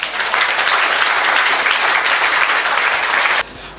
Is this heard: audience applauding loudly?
yes